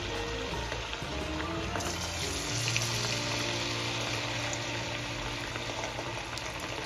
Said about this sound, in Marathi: आता यामध्ये 1 बाय 1 पीस ऍड करून घेऊया आणि छान क्रिस्पी होईपर्यंत आपण तळून घेणार आहोत